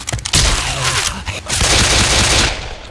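Rapid pistol gunfire from the video game Left 4 Dead 2, a dense run of loud overlapping shots filling the whole stretch, with a brief lull before the firing resumes.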